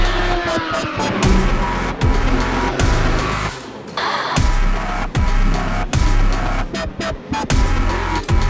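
An Aston Martin race car comes into the Le Mans 24-hour pit lane with a punctured tyre, its loud engine revving up and dropping repeatedly amid rapid throttle blips and nearby mechanical noise, with no talk.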